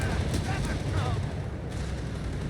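Grenades thrown by a German assault squad burst in Company of Heroes 3 as a few sharp, booming blasts within a dense battle din, with a voice talking over the fighting.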